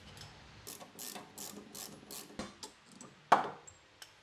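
Rapid clicking bursts from a ratchet work loose the sway bar link connection on a Subaru Forester during a lift kit install, a series of short close ratcheting strokes ending in a sharp metallic clack, no talking.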